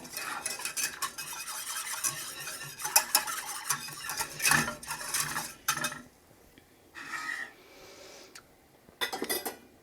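A spoon stirring a thickening cornstarch mixture in a pot as it comes to a boil, close scraping and clinking strokes in a steady run, then pausing before a few more strokes.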